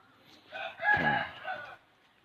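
A rooster crows once, close and clear, a single drawn-out cock-a-doodle-doo rising and falling over about a second against a quiet rural background with no talking.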